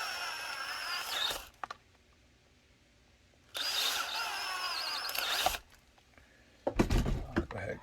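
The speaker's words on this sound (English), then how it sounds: "Go ahead and drill that." A power drill bores screw holes for mounting a rubber thumb brake, two sustained whirring bursts and a third short one separated by quiet pauses, close and loud.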